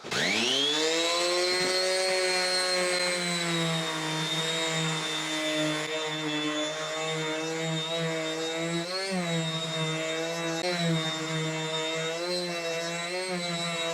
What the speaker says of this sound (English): I think I'm gonna sand these a little bit smooth